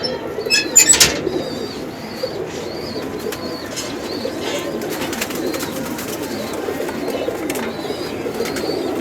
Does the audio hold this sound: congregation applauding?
no